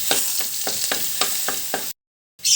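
Garlic sautés in a pan after pork, with a close sizzle broken by about eight rhythmic stirring scrapes, then a brief dropout before the frying returns louder.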